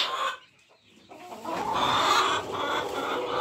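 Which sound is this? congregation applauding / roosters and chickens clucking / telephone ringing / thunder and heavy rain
roosters and chickens clucking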